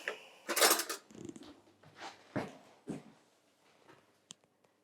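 A knife picked up and drawn through a baked Bolognese stromboli, with a metallic clatter of handling followed by several soft, separate cutting strokes, quiet and close.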